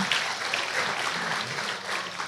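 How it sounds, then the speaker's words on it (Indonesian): An audience at a live cultural talk show applauds a guest being called up, a steady wash of clapping from a crowd at a moderate distance, with voices murmuring underneath. "kasih tepuk tangan"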